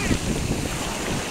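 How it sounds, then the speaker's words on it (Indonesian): Waves wash over toy trucks at the shore, a steady broadband rush of surf and water with wind buffeting the microphone, continuous and fairly close, with no talk. "Wah, terbawa ombak."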